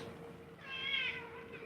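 A cat gives a single rising, drawn-out meow, close and fairly loud, heard alone against a low steady background hum.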